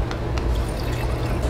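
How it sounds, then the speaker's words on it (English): Wine, an older Bordeaux, poured into glasses, a short close steady liquid stream gurgling for about a second and a half with no talk. "Can you pour me some more of both of them"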